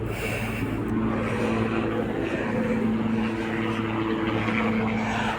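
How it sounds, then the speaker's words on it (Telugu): A steady, droning helicopter engine with a low rotor hum fills the clip, continuous and fairly loud, passing high overhead at a distance near Sagar Durga temple, Visakhapatnam. "పైన చాలా పైన హైట్లో సౌండ్ కూడా వస్తుంది కదా, హెలికాప్టర్ చాలా సౌండ్"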